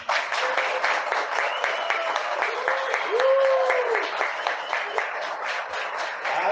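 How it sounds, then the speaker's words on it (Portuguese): Congregation applause during a church service, with men clapping for the women: a sustained, even patter of many hands, overlaid by a voice calling out or singing over it. "Só os homens vai dar uma salva de palmas para elas."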